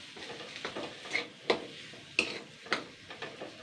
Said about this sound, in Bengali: জাস্ট আমি এটাকে 2-3 মিনিট হালকা নাড়াচাড়া করে নেব।